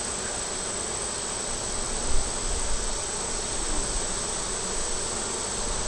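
Bees buzz around an open hive during an inspection in hot weather, making a dense, steady drone close by with a brief louder swell partway through.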